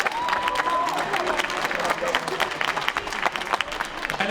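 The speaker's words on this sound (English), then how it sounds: "Ladies and gentlemen, give a big round of applause to these 2 warriors." A crowd at a Wicked N'Bad fight event applauds two fighters after a five-round bout, with steady clapping and scattered cheers and crowd noise under faint voices.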